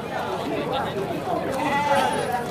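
Sheep bleat amid the busy crowd at the Feira do Bode livestock market in Caruaru, their calls blending with nearby talk and general market chatter.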